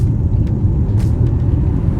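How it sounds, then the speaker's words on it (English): A 2024 Dodge Hornet PHEV's gasoline engine kicking in under full throttle, a deep steady rumble heard from inside the cabin, dense and continuous with a few brief faint clicks and hisses. "then the engine kicks in."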